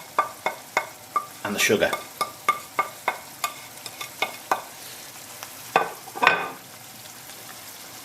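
A tomato sauce with garam masala, cashews and sugar simmers in a pan while a spoon taps and scrapes in a steady rhythm of sharp knocks, over a soft sizzle, with a brief spoken line near the start.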